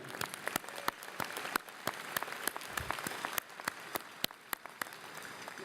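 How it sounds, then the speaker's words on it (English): Scattered applause for graduates and their families at a university commencement ceremony, a crowd clapping with sharp individual claps standing out over a continuous patter, moderately distant. "let's start off with a round of applause for the graduates and the families who made it happen"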